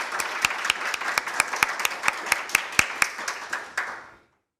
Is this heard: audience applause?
yes